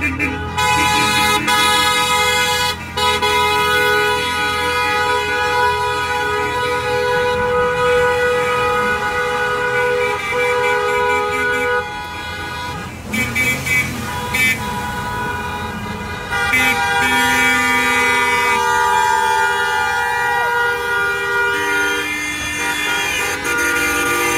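Car horns honk during a motorcade in Washington, blaring in long overlapping blasts over steady traffic rumble, loud and close throughout, with brief dips between bursts and no speech.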